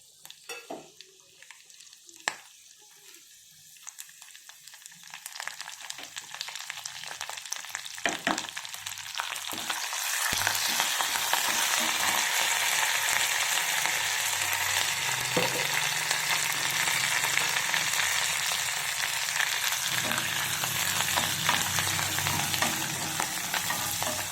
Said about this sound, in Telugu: ఎండుమిర్చి, కరివేపాకు, వెల్లుల్లిపాయలు, జీలకర్ర, ఆవాలు ఇవన్నీ పోపు వేసేసుకుంటాం.